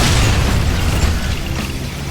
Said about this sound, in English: the gas pumps still explode with deadly force